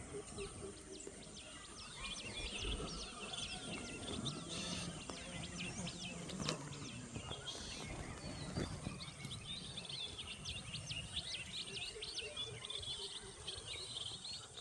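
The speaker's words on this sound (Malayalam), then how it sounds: "കണ്ടമാനമുണ്ട് കിളി." Many small birds chirp and tweet in a rural vegetable garden in Kayamkulam, Kerala, a steady faint chorus of rapid calls mixed with insect buzzing, with some soft background voices.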